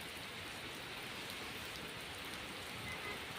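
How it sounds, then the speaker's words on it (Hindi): Steady rain falls outdoors near trees, a dense even hiss that is fairly faint and constant throughout, with no voices. "4 बजे से बारिश होना स्टार्ट हो गया, तब रात भर बारिश होगा।"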